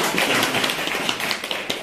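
Audience applause at a church talk, a dense, close wash of many hands clapping at a steady level for about two seconds before fading slightly, no talking.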